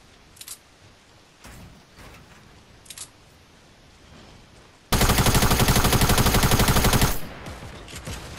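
Rapid automatic gunfire in a building shooter video game: a few scattered single shots, then a loud sustained burst of fast fire lasting about two seconds, followed by more isolated shots.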